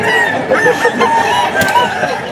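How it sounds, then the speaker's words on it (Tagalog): Chickens cluck and a rooster crows close by, with overlapping fowl calls filling the yard in a loud, busy chorus. "Ang manok ni Boss Joey yan mga idol"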